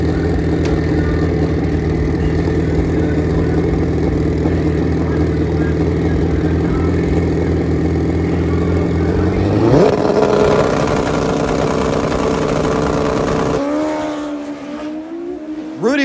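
Drag race cars on street tires roar side by side in a sustained loud engine drone, then one launches with a sharp rising rev as the pitch climbs steeply and fades away, with an announcer talking over it.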